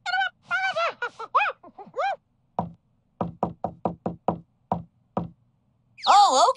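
A cartoon secret knock on a door comes after a run of voice-like vocal calls at the start. The knocks are sharp and rhythmic, about nine of them in an irregular pattern, and a drawn-out vocal sound closes the sequence.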